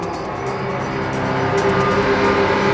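A motorbike arrives in a Hindi crime drama scene, its engine a loud, close, continuous growl that builds slightly in intensity over nearly three seconds, with no talk over it.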